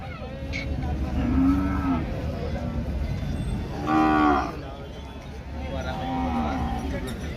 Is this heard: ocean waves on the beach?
no